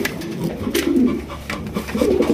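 Large pigeons, including Baghdadi and fancy racer birds, cooing at close range in repeated low, throaty rolling phrases, several overlapping with no talk.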